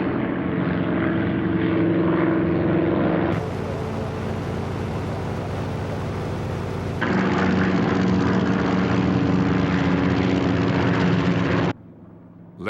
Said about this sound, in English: the first wave of Japanese planes roars over the horizon